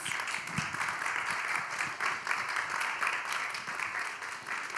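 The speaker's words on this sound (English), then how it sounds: "I think they deserve a really big applause" Applause from an audience at a music career panel, a steady wash of many hands clapping that holds evenly throughout at modest level, fairly distant.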